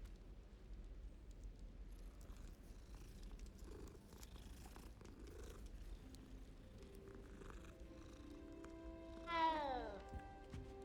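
A cat in Hogwarts Legacy purrs softly and steadily beside rain-like patter, then lets out a clear rising meow near the end.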